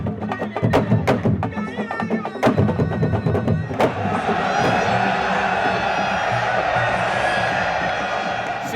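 A large crowd at a Senegalese wrestling match roars and cheers, with sharp claps and thumps early on, then a sustained loud wash of voices and whoops.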